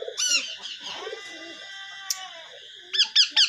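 Pet birds kept on a farm give a string of calls: clear whistled notes and chirps near the start, a held tonal call, then three quick bright chirps close by.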